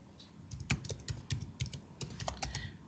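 Fingers tap quickly on a computer keyboard, a close run of crisp uneven clicks and key presses during SAP ABAP programming work, with no talk.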